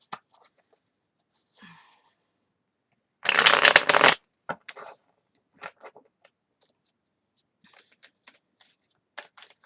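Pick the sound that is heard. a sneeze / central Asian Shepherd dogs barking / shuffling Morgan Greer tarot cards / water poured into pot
shuffling Morgan Greer tarot cards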